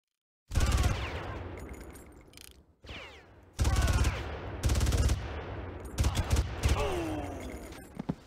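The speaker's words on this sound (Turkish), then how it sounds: "Bomba mı patladı? Ne oldu önümde?" Bomb explosions and gunfire in the video game Far Cry erupt in several loud, broadband bursts, with rattling shots and crashing blasts separated by brief gaps. No one speaks.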